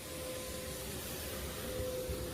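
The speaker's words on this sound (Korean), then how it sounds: "청소기로 땡깁니다. 청소기를 쭉 땡겨요. 쭉 빨아들이죠." A vacuum cleaner sucks up standing water from a flooded basement floor, a steady, moderately loud whirring drone with a constant hum that runs unbroken throughout.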